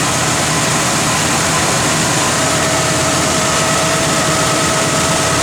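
The 455 V8 of a 1972 Buick Gran Sport idles steadily and loudly up close, a constant deep rumble with an even, unbroken tone and no speech.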